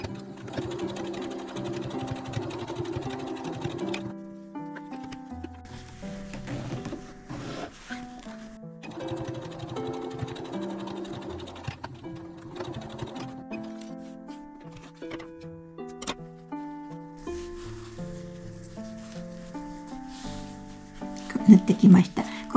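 A sewing machine stitches a zipper pouch with its fabric placed right sides together, running in several steady bursts with short pauses, over soft background music.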